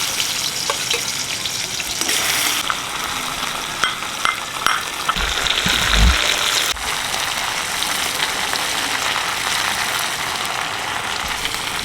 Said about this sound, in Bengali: এবার বাকি মাছগুলো ভেজে নিলাম।